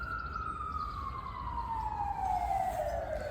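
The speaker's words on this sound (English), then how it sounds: "if you're wondering what all the sirens were going off for" A single emergency siren wails at a distance, one long steady tone slowly falling in pitch over continuous background noise, with no talking.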